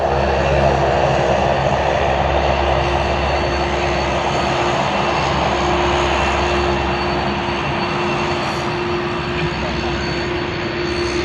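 A Qantas Airbus A330 airliner at Sydney Airport gives a steady, loud engine roar with a constant whine held throughout, close by and without pause.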